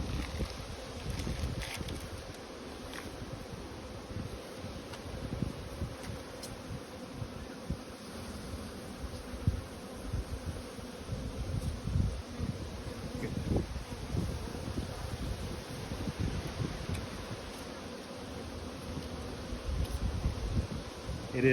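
Steady buzzing from many honey bees around a hive on a windy day, a continuous low drone with wind rumbling across the microphone throughout.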